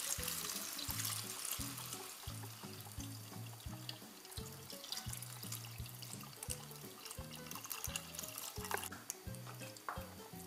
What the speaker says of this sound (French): Et maintenant j'ajoute le bouillon de volaille.